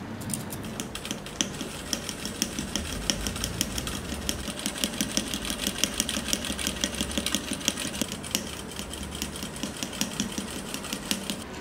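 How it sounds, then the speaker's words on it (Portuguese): A sewing machine runs continuously as it stitches all the way around Dresden plate patchwork petals, a fast steady mechanical clatter close by with no pauses. "vamos para a máquina costurar toda a volta"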